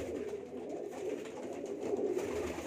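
Pigeons cooing on a rooftop, low soft throaty coos repeating steadily in a continuous close murmur.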